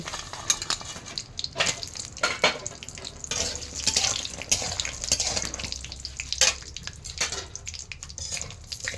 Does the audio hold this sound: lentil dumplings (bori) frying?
yes